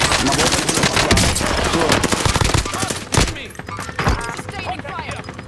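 Gunfire in Call of Duty: Modern Warfare, loud rapid automatic bursts dense at first and thinning toward the end, with scattered single shots.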